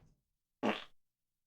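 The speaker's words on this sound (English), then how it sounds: "A farting zebra." A single cartoon zebra fart sound effect blares out loud and alone, a short burst of about a third of a second followed by silence.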